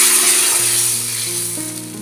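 Protein dosa batter sizzling on a hot pan, a loud, steady hiss close by that eases slightly toward the end, with faint tonal hum underneath.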